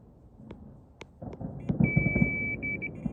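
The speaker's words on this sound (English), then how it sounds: "Fire alarm's going off." A steady high electronic alarm tone sounds from about two seconds in, beside a quiet estate lake at night during carp fishing, with sharp distant pops and bangs from fireworks earlier and low rumbling beneath.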